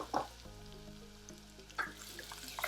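Chopped ginger and garlic fry in a pan, a steady close sizzle with louder bursts near the start and again toward the end, as if stirred or newly added, with a faint hum beneath.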